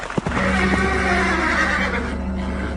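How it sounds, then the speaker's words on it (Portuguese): A horse neighs loudly in a long, sustained whinny over a steady low hum, close and clear, with a brief click just before it. "Olhei e vi um cavalo amarelo."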